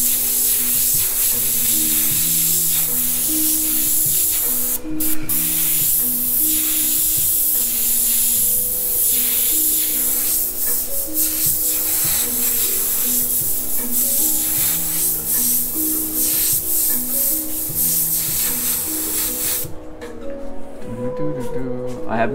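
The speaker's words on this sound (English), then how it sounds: "they seem to spray a higher volume of paint. They spray a lot harder" A continuous airbrush hiss runs throughout, with someone speaking over it; the spray stops abruptly near the end.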